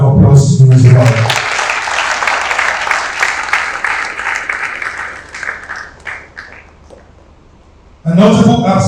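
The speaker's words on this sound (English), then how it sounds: "A round of applause to you as well." Applause from an audience at a school awards assembly, bright and sustained for several seconds before thinning out; a speaker's voice is heard just before it and again after it.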